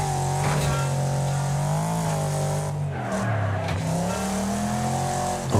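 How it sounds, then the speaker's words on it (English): A race car in the Wreckfest racing game roars continuously, its engine pitch rising and dipping through gear changes while tires squeal and skid as it drifts wide down a ramp. "we can allow the car to drift wide and go down the side of this ramp as well now"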